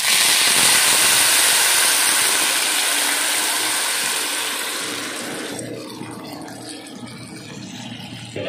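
Water pours steadily into a pot of rice, a double measure for every cup of grain, loud and continuous at first and then easing into a quieter fill, with no talk.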